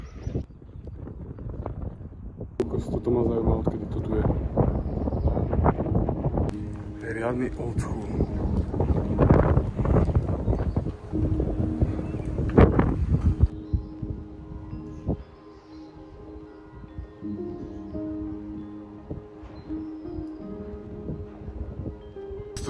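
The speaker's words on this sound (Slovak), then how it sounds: "Akože vietor stále neprestal, stále fučí." Gusty wind blowing outdoors on a flat stretch during a long walk, a strong roaring buffet across the microphone that eases off near the end, with someone talking over it.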